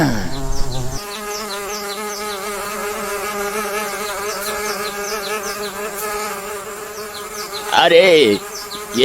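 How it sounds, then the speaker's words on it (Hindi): A swarm of honeybees buzzes loudly and continuously from a tree hive, a dense wavering drone close by, swelling with a sharper whine near the end. "अरे, ये मधुमक्खियाँ तो इधर ही उड़ते आ रहे हैं।"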